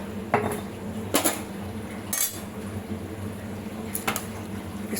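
Spiced pulao being mixed in a metal pot, a few spaced clanks and scrapes of a spoon against the pot over a faint bubbling background.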